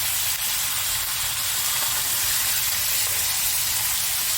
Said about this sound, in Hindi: ये कलेजी और उसमें थोड़े से गुर्दे भी थे, वो आपने डाल दिए ये छलनी में से। इसको आपने हल्का सा फ्राई किया।